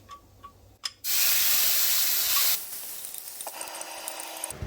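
Rendang spice paste hits a hot pan with a sudden loud, broad sizzling hiss lasting about a second and a half, then settles into a quieter steady frying crackle.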